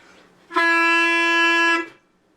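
A single loud, brassy clarinet note held for over a second, harsh and buzzy with a strong raucous edge from taking too much mouthpiece.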